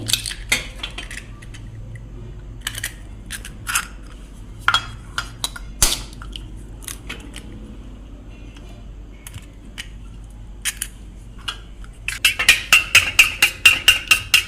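Two eggs are cracked into a bowl, giving scattered sharp clicks and taps of shell against the rim, ending in a quick run of rapid clinking, with no one talking.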